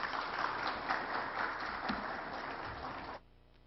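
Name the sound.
conference audience applauding the minister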